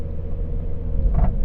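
Steady low road rumble and engine drone from a 2010 Mazda 3 hatchback at speed, a continuous cabin hum with a brief swell near the end.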